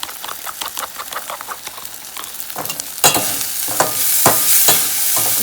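An omelette mixture with ginger powder is stirred in a pan, giving quick rhythmic scraping strokes, with a louder frying sizzle rising under the strokes partway through.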